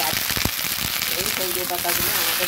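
Drumstick leaves tossed into a hot pan and stirred while lightly frying, a close crackle and hiss under background noise, without speech.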